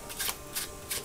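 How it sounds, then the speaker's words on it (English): Three soft, brisk riffling bursts as a deck of playing cards is shuffled for a magic trick, close and quiet with short pauses between them. "Before we start, we need to shuffle these cards."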